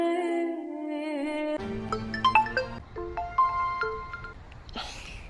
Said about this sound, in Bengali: এই তোর ফোন বাজে, ধর।